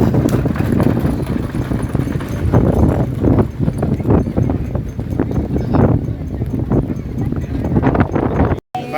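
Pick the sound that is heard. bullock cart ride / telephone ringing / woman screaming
bullock cart ride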